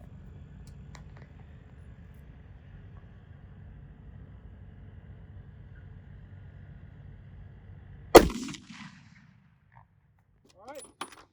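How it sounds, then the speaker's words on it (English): A rifle firing Monarch ammunition at a target stack outdoors gives a single sharp, loud shot with a short rolling echo after a long quiet stretch of faint background hiss; a few faint clicks follow. "Monarch and we'll shoot at the stack on the left"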